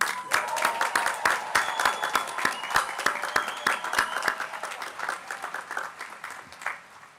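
Applause from a commencement crowd greeting a graduating college class: dense, steady clapping from many hands that gradually thins and fades toward the end, with no talking over it.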